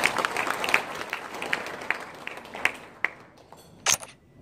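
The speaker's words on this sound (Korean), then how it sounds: "큰 박수 부탁드리겠습니다" Applause at the Gumi Chamber of Commerce's June Thursday breakfast meeting: a crowd's dense clapping that thins and fades toward the end, with a few sharp camera shutter clicks near the close.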